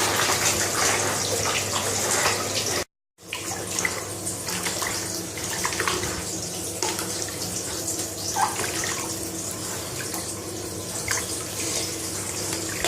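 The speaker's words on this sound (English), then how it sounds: "And then get your hands in and just start swishing it around again." Hands swishing aquarium sand around in a container of water indoors, a steady close sloshing and rushing of water that breaks off briefly near the start and then continues.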